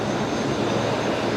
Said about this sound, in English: Beautiful Rex Saab 340 just arriving onto the bay there in front of us.